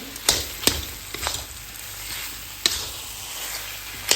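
Raisins sizzling in hot ghee in a pan while being stirred, a soft continuous frying hiss broken by several sharp clicks of the spoon against the pan.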